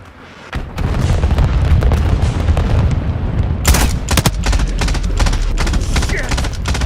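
Artillery strike explosions in a video game: a dense barrage of booms and gunfire-like blasts rumbling continuously, with a sharper cluster of loud impacts partway through, close and heavy throughout.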